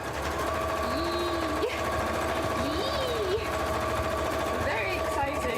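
A sewing machine stitching fabric mock-up pieces runs at a steady, continuous whir throughout, close and fairly loud, with faint tonal background sounds over it.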